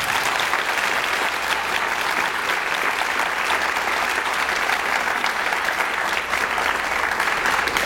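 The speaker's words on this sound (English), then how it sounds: "One more round of applause for them." Audience applause at an awards convocation: a sustained, even roar of many people clapping together, loud and continuous across the whole stretch without any talk.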